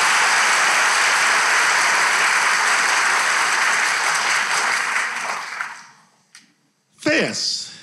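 Studio audience applause on a Turkish relationship quiz show, loud and dense for about five seconds, then fading out, followed by a brief burst of noise.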